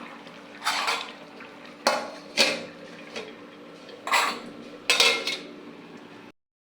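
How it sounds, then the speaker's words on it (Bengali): A metal lid clanks onto a cooking pot where rui fish and pumpkin curry simmer, with several sharp clinks and scrapes spaced over a few seconds against a quiet kitchen background. "আমি ঢাকনা দিয়ে ঢেকে দিই।"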